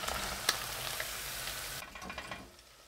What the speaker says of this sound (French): Grâce à cette friture en deux étapes, les morceaux ne deviennent pas trop secs et sont bien croustillants.